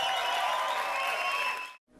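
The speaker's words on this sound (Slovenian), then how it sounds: "in zdaj en velik aplavz za Tina Vodopivca" Audience of about 250 people at a live show applauding, a dense, loud burst of clapping that fills the clip and then cuts off abruptly near the end.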